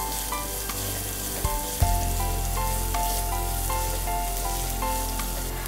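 Sliced onions for beef vada frying in oil in a pan, a steady bright sizzle with a clatter of a spoon stirring partway through.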